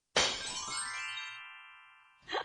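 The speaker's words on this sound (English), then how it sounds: "Oh, the mirror, the glass cracked." Mirror glass cracks with a sharp broadband crack, followed by a long ringing, tinkling resonance that slowly fades over about two seconds, ending with a brief noise burst.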